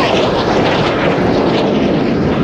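Red Arrows display jets roar loud and close as the synchro pair flies a low double roll at about 100 feet during an RAF air display, a dense continuous jet noise with no talk.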